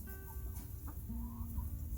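A chicken clucks outdoors in a few soft, scattered calls, close but quiet over a low breezy background.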